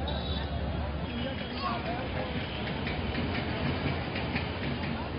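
Passenger train running on rails in Bihar, heard from inside or close by: a continuous rumble with faint rhythmic clicking of wheels on track, steady and fairly loud throughout.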